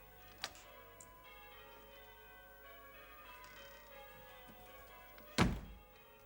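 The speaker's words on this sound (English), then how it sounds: "The church bells have started ringing." Church bells ring steadily at a distance in a 1972 English period drama, their sustained tones faint and even under the room's quiet, with a single heavy thump near the end.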